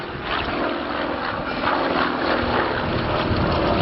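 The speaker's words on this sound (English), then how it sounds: "It's an ex-Peruvian, ex-United States Air Force aircraft." A Vought Corsair propeller fighter flies at a 1986 air show in England, its engine a steady, fairly loud drone that swells slightly as it passes, heard alone without talk.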